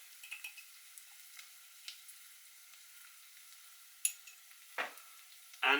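Onion frying in a pan on the lowest heat for kedgeree makes a soft, faint hiss dotted with small clicks, plus a sharper utensil knock toward the end.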